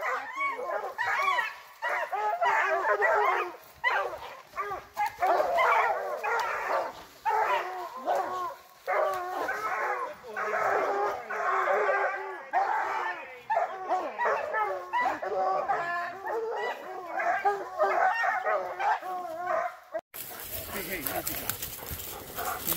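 Hunting hounds bark in repeated bursts through most of the stretch, close and loud, with people talking over the commotion; the barking stops near the end, giving way to a brief burst of wind noise.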